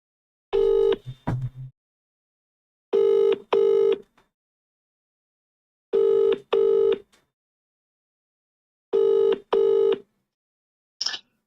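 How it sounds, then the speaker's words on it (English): A telephone call rings out in a repeating double-ring pattern, four paired rings with silent gaps between them, clear and alone, followed by a brief high click at the end. "we'll give the number a call"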